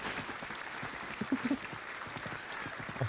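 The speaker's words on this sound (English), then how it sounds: "I'm giving you applause." Applause from a single person clapping along with a celebration stream, a soft, steady patter of claps heard close and a little muffled.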